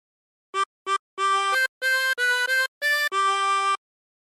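A harmonica plays a short phrase of the Indonesian folk song Ampar-ampar Pisang, with clear reedy notes in a sequence of short and held breaths, heard alone and close with no voices.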